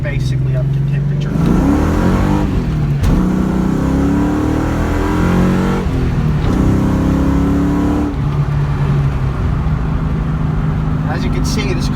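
A cammed 2004 Ford Mustang GT V8 pulls hard under acceleration, its loud, lumpy engine note climbing through several rising sweeps with brief drops between gear changes, heard from inside the car with a voice talking over it.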